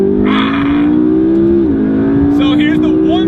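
A McLaren MP4-12C engine drones loudly from inside the car, holding a steady high rev that dips briefly around a gear change and then climbs again as it accelerates.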